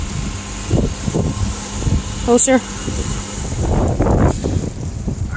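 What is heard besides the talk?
strong gusty wind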